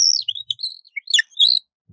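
A small water-filled bird whistle warbles bright, trilling birdsong in quick chirps and swoops, close and clear with short pauses between phrases.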